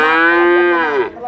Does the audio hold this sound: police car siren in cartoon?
no